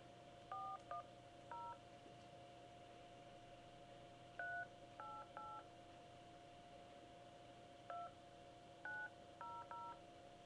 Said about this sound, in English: I'm trying to dial the sheriff's office